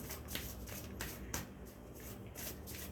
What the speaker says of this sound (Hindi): मैं एक कार्ड लेना चाहूँगी इस रेड वाले डेक से